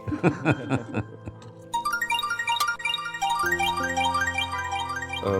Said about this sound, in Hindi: दुआ की कॉल आ रही है, मैं एक कॉल लेकर आता हूँ।